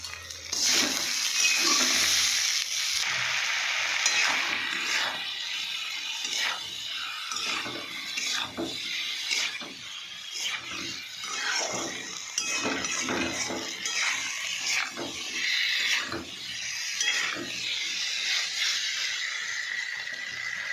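Mutton curry with tomato and chili powder being sautéed in a pan, a soft steady sizzle under repeated scraping and clinking of a spatula or spoon against the metal, close and fairly quiet.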